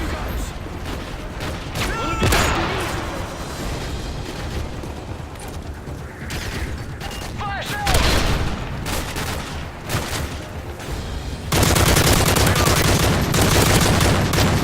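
Rapid automatic gunfire in the video game Modern Warfare 3 Survival mode, dense continuous bursts with explosions and in-game voices layered on top, plus players talking over the chaotic firefight.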